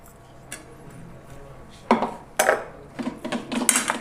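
A spoon clinks and scrapes against a metal pan while ground spices are mixed into a cooled tempering for an instant raw mango pickle, with several sharp knocks and clatters, close and fairly loud, and no talking.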